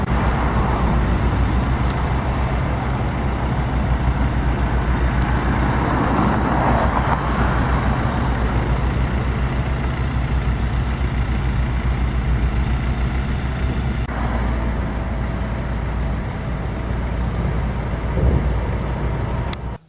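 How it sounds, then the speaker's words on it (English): Continuous roadway traffic beside a street next to a loud oil drill site, a steady broadband rumble of passing cars and trucks with engine drone throughout, no talk. "I hear the traffic."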